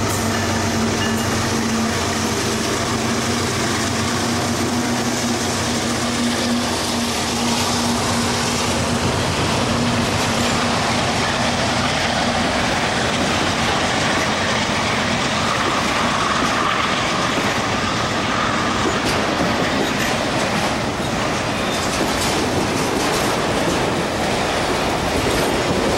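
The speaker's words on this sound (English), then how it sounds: "Trains rock and roll. They're awesome." A train rolls past close by for a long stretch, wheels clattering rhythmically on the rails with a steady rumble and occasional faint squeals.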